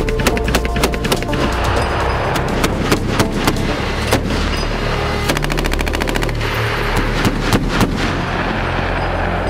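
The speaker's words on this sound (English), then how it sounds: "we're right now currently shooting the Bradleys, on the Bradleys, the 25 Mike Mikes and the 762s" Bradley fighting vehicle firing its 25mm cannon and 7.62mm machine gun at a range, loud rapid bursts of shots crackling in dense overlapping strings with heavy booming reports underneath, at night.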